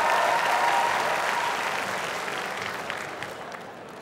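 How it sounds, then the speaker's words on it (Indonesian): Audience applause at a televised stand-up comedy stage show in West Java, a dense wash of many hands clapping that starts loud and slowly fades over a few seconds, with no talk on top. "kita kasih tepuk tangan untuk Pak Anton."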